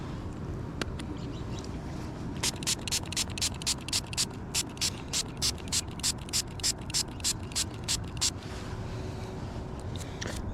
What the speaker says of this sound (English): Let's spray this thing off real quick.